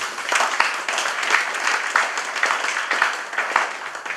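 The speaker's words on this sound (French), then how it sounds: "aidez-nous à les remercier encore une fois par un bel applaudissement" A conference audience at a cultural morning lecture series applauds its two speakers, giving steady, dense clapping throughout with a scattering of louder individual claps near the listener.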